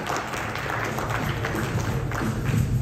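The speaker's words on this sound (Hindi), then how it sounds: "जोरदार तालियां शुभम के लिए प्लीज" An audience claps for a person being called onto a stage at an indoor event, a moderate, even patter of applause over a low room hum that grows slightly toward the end.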